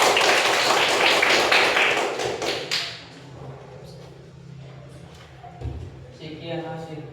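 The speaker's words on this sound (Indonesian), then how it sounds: "Oke, tepuk tangan dulu." A classroom audience breaks into applause after a presentation, a loud dense burst of clapping that fades after about three seconds, followed by a quieter room with some talking and a few scattered sounds.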